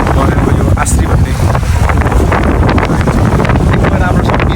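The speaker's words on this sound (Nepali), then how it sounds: "हावा चलिरहेको छ" Strong seaside wind on a hot summer day at a beach in Bahrain buffets the microphone as a loud, continuous rushing roar that masks other sounds.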